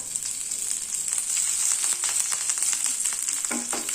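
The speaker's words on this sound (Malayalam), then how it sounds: "കുറച്ച് കറിവേപ്പില കൂടെ ചേർത്ത് കൊടുക്കാം" Steady loud sizzling of curry leaves frying in hot oil, a continuous bright hiss with brief crackles near the end, close by and without speech.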